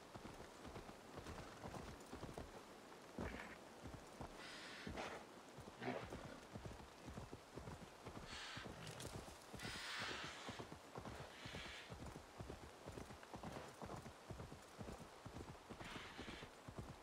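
Steady clip-clop of horse hooves walking in the rain in a video game, continuous and fairly close, with occasional brief bursts of other noise over the rhythm.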